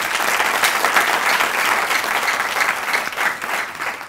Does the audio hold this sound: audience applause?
yes